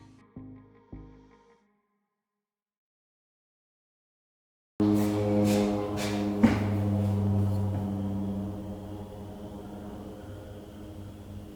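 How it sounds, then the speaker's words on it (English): A loud crop duster propeller plane drones steadily overhead, its engine tone holding strong after a short quiet stretch with a few faint knocks at the start. "There's a crop duster that keeps flying around and it is so loud"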